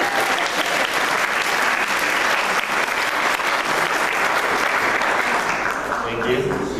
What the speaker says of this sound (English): Feel free to clap or applaud.